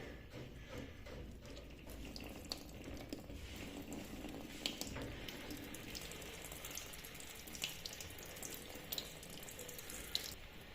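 Water drains from a household hot-water radiator after its fitting is loosened, a continuous faint trickle with scattered small splashes, no talk.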